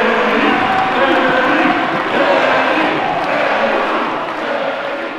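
Roaring crowd at a World's Strongest Man event, loud and sustained with dense cheering and shouting across the whole stretch, fading slightly toward the end.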